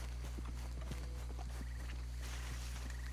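Horse hooves in Red Dead Redemption 2, with a steady rhythmic clip-clop of a horse at an easy pace over a constant low background hum.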